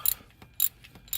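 A fitting is tightened clockwise during a Nissan o-ring leak repair, three sharp ratcheting clicks spaced about half a second apart, close and crisp with quiet between.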